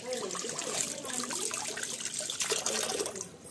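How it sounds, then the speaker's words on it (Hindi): Tap water runs steadily as hands are washed before a home meal in India, a close, continuous splashing trickle with a slight surge near the end. "यहाँ पर हाथ धो लेते हैं।"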